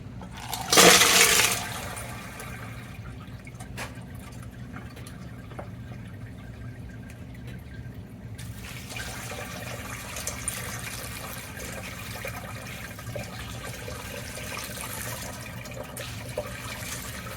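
Liquid rock slurry is poured out of a rock tumbler barrel at the end of week three. It makes a brief loud splashing gush, then a faint, steady trickle and drip continues for a long while.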